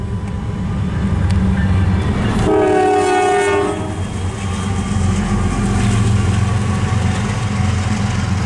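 An eastbound freight train passes close by with a heavy rumble and rolling wheel clatter, and a loud horn blast sounds for about a second and a half early on.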